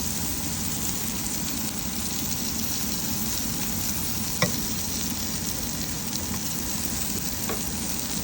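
Chicken liver fries steadily in a pan with a dense, continuous sizzle, loud and close, with a faint click or two of utensils and no talking.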